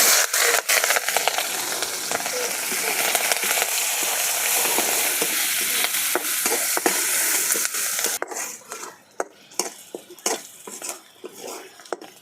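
Busy pan frying of onions and green chillies over a clay stove, with loud sizzling and scraping stirs for most of the clip, then quieter intermittent clinks and taps of utensils near the end.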